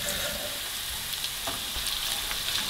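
Chopped onion hits hot garlic-scented oil in a pan for chicken livers in sour cream, giving a steady, close sizzle and crackle that runs throughout, with a few soft stirring scrapes and no talk.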